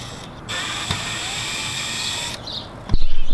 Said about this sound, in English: There's gonna be two screws right here. One, two. So go ahead and remove those.